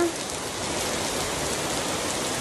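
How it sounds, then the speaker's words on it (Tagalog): Steady rain pours down outdoors, a close, even patter of drops hitting surfaces with no gaps and no voices. "Nag-ulan na guys."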